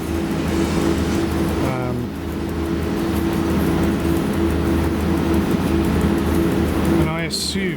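A train in the SimRail simulator runs along the line on autopilot with a steady, loud low rumble and hum and a few brief squeaks and rattles.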